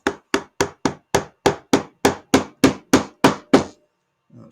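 A hammer taps a part into place on a homemade 3-jaw chuck rotary table, about a dozen evenly spaced, sharp knocks in a steady rhythm, close and loud, ending in a faint scrape.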